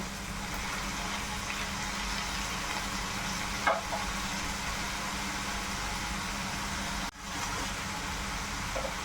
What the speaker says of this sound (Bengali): মাছটা দিয়ে আমি 5 মিনিটের মতো একটু নেড়ে চেড়ে রান্না করে নিচ্ছি।